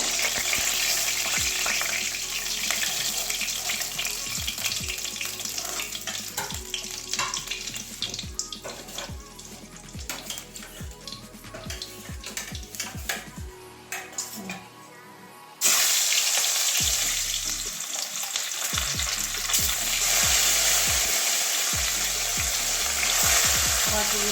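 Loud, steady sizzling of katla fish frying in hot oil, with repeated utensil knocks and scrapes, and a brief drop before the crackle resumes strongly.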